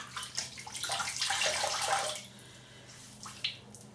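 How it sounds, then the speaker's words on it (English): A flannel is dipped and swished in cold water in a basin, giving a burst of close splashing and dripping that fades into quiet trickles, with a brief splash near the end. "Here's my flannel into the cold water."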